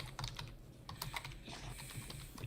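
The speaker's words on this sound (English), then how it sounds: "just typing you something real quick." Rapid, uneven clicking of keys on a computer keyboard, close and fairly quiet, in short bursts with no voices.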